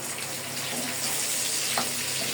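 Onion petals and capsicum fry in a pan for chilli chicken, a steady hissing sizzle at close range with no talking.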